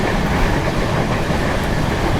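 The 12874 Jharkhand Swarna Jayanti Express, hauled by a WDP4 locomotive, rolls along the rails with a loud, constant rumble and wheel clatter heard from on board.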